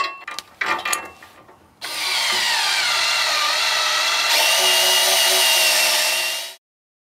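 A power tool drives flange bolts into the bracket of an electric leveling jack on a travel trailer. Brief clanks and handling come first, then a loud, close whirring drill runs steadily for about five seconds before cutting off.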